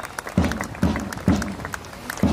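A fundraising program audience gives a smattering of scattered claps, fairly faint and distant, with a few sharper hand strikes spaced about every half second standing out from the room murmur.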